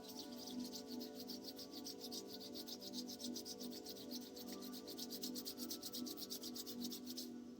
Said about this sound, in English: bringing the palms of your hands together, rubbing them back and forth, creating heat.